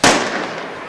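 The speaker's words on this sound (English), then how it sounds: "they continue to fire that cannon" A cannon booms at an Army vs Navy men's soccer game in a stadium, one loud sharp blast followed by a long fading echo with no talk.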